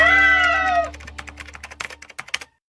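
A person imitating a cat with a loud, drawn-out meow, followed by a quick run of sharp clacking taps.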